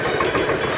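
A Vespa scooter engine idles steadily up close, a continuous low, even putter with no breaks over a brief moment.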